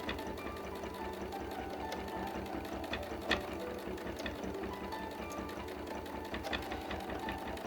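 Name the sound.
sewing machine stitching during free-motion quilting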